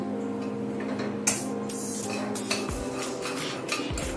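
Coconut ladoo mixture being mixed in a pan, quiet scraping and stirring of a spoon against the pan with a few light metallic clinks, close and unaccompanied by talk.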